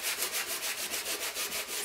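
Rhythmic back-and-forth scratching of sandpaper on wood, about a dozen quick even strokes, close by with no talking.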